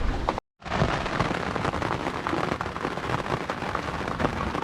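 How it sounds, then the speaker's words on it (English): Steady rain hisses and patters densely at sea during a thunderstorm on an offshore sailing passage, broken by a brief cut near the start. "it's now raining. We've still got thunder and lightning."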